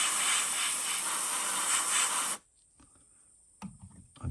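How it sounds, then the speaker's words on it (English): Paint sprays through a stencil onto a copper gill fishing lure in one loud, steady airbrush hiss of about two seconds that cuts off abruptly, followed by faint handling noises. "I'm gonna spray this a little bit right here"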